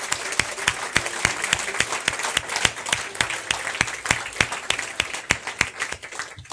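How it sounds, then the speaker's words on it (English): Applause from an audience at a talk on Kanilea ukulele making, with sharp, regularly spaced claps standing out from a dense wash of clapping, fairly close and loud, with no talking. "So once again, give yourselves a round of applause."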